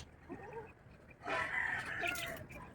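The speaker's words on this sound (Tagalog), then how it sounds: "Ano, bird." A bird gives short, fowl-like calls close by, a quiet clucking phrase followed by a louder, longer crow-like call.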